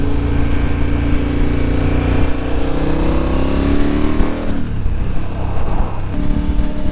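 A KTM 1290 Super Adventure R motorcycle cruises on a motorway at highway speed, its engine droning loud and steady, with rising pitch shifts and wind rush throughout.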